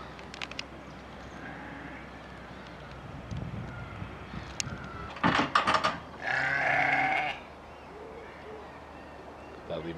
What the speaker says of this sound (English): who are doing what sheep do. Eating grass.